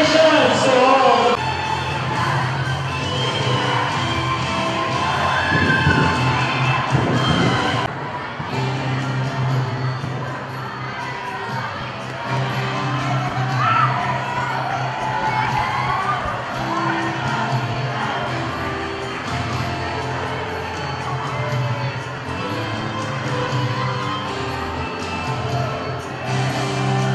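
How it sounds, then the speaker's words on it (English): College founding-anniversary awarding ceremony crowd cheers and shouts in a large hall, a steady loud roar with whoops and bellows running throughout, with an announcer's voice over it. "A round of applause for everybody!"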